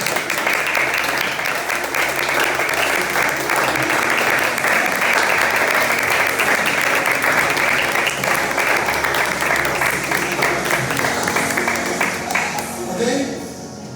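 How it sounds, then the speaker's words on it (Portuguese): A church congregation applauds at a worship service, with dense, sustained clapping that stays loud and steady for the whole stretch and thins slightly at the very end, with voices mixed into the crowd. "Dê um forte aplauso ao Senhor Jesus."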